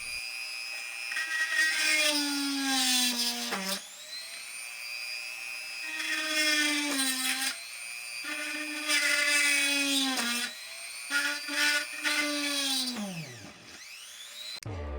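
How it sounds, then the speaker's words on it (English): A small electric drill whines in several bursts of a few seconds each while drilling holes in a doll, its pitch rising and falling with the load, then winding down at the end. "So first I drilled 6 holes."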